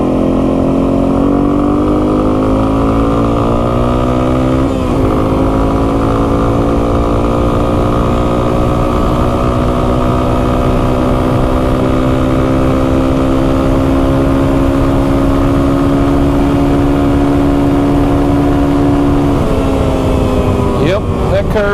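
A Yamaha TW200 dual sport motorcycle with a freshly rebuilt carburetor runs steadily while riding, its single-cylinder engine droning loud and close with smooth rising and falling revs throughout.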